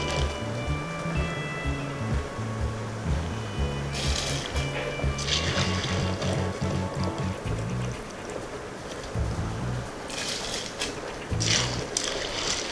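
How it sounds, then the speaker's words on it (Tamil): Soaked basmati rice tipped into a pot of boiling water for beef dum biryani and stirred, with bursts of splashing and scraping rising over a steady background of low tones and bubbling. "அரிசி போட்டு நல்லா இது மாதிரி கிளறி"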